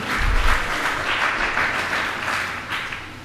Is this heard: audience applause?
yes